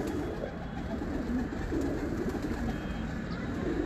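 Breeder pigeons coo in a steady, soft murmuring chorus close by, layered with low background noise and occasional faint human voices.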